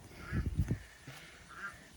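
A female duck gives a few low, soft quacks close by, faint and brief amid background noise.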